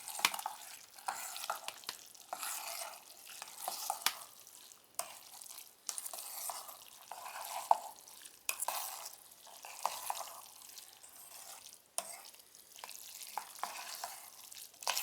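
Maggi noodles being stirred and mixed in a dish prepared in a microwave, a steady series of soft scraping, swishing strokes repeating every second or so, close and moderately quiet with no talking.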